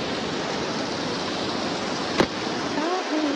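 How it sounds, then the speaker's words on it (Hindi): Fast-flowing river water rushes in Manali, a loud, steady broadband roar heard close by, with a brief knock partway through. "कितना सुंदर और इतनी सुंदर आवाज पानी की"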